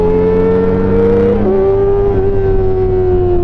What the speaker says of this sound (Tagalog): Meron, may motor.